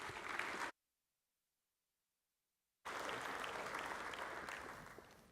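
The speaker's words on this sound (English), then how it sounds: "Let's give him a round of applause." Audience applause welcoming a guest speaker at a beef industry event, loud clapping cut off by a stretch of silence, then resuming and slowly fading toward the end.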